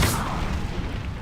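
An Incendio fire spell in the video game Hogwarts Legacy erupts with a loud, sudden whooshing blast that fades into a rumbling tail over about a second, with no talk.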